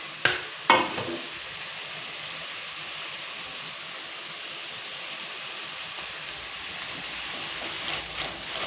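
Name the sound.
paya curry cooking in a pan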